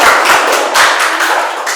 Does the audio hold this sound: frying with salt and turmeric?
no